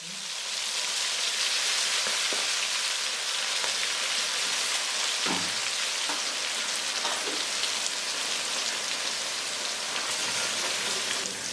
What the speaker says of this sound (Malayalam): ഈ തിളച്ച എണ്ണയ്ക്കകത്ത് കൊഞ്ച് മാരിനേറ്റ് ചെയ്ത് വെച്ചേക്കുന്ന എടുത്തിട്ടിട്ട് അത് നന്നായിട്ട് വറുത്തെടുക്കാം